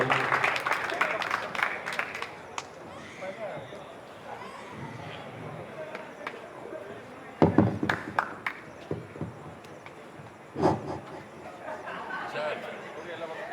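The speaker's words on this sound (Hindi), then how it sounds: "एक बार जोरदार तालियां बजा दो सचिन सर के लिए" Applause for Sachin sir at a Teacher's Day celebration and award ceremony at a gurukul, with scattered, moderate clapping and crowd chatter, a few sharper bursts standing out, under ongoing background murmur.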